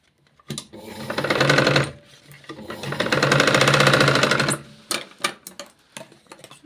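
Sewing machine stitching the sleeve of a long-sleeved garment, running in two bursts: a short one followed by a longer steady whirring run, with quiet handling clicks between.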